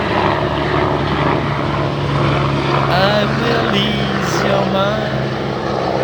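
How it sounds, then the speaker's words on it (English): A passing helicopter drones as a loud steady low rumble throughout, while a voice sings over it midway through. "there was a chopper, a helicopter that was passing by."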